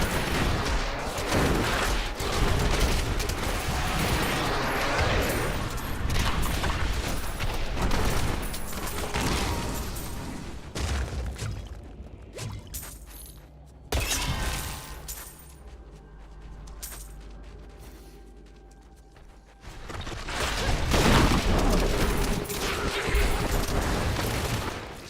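Rapid automated fire from a Demon Hunter's two turrets in Diablo 3, dense crackling bursts layered with game explosions and impacts, loud and continuous, easing briefly in the middle before surging again.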